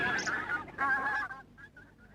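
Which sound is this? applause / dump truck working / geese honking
geese honking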